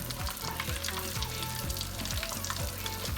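Floured snapper fillets fry in butter and oil with a steady bubbling sizzle, while a low rhythmic thumping pulses regularly underneath throughout.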